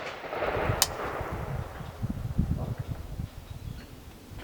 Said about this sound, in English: going to fire at that right bottom dot